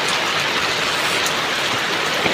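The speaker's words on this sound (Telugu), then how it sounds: "వాన చూస్తే ఇలా వచ్చేసింది ఫ్రెండ్స్" Steady rain falls on a village home and its yard, a dense, even hiss of drops on surfaces, close and moderately loud throughout with no talk.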